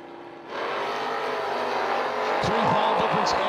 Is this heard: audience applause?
no